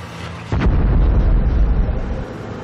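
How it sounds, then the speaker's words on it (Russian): Detonation in a tanzanite mine: a sudden heavy boom that shakes the underground tunnels, followed by a sustained low rumble that slowly fades. "Несколько детонаций потрясает шахту"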